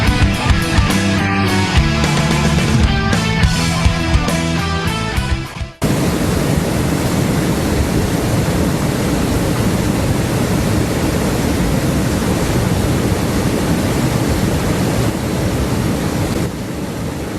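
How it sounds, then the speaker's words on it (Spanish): A river rushing with strong force, a broad steady roar of flowing water that sets in after a few seconds of music and stays loud and continuous to the end. "Y así con este río fluyendo, este sonido del agua que demuestra toda su fuerza"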